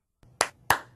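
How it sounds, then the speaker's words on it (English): Two sharp hand claps, close and clear, spaced about a third of a second apart, as in a television commercial for the Clapper light switch. "Clap on, clap off."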